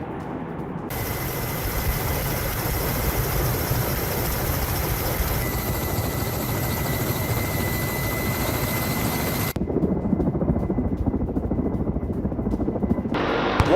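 Russian military helicopter during the Zapad 2025 war drill, a loud continuous rotor and turbine roar that holds steady throughout with a shift in tone partway, no voices.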